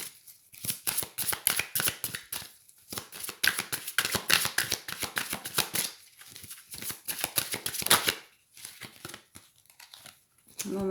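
Oracle cards are shuffled by hand in quick, crisp riffling bursts, close and fairly loud, broken by short pauses and then resumed in repeated runs.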